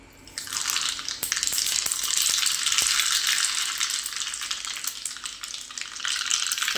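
Mustard seeds hit hot oil in a pan for a chutney tempering, and a loud, bright sizzle bursts up and holds steady, with a few faint pops and ticks, close by and with no talk.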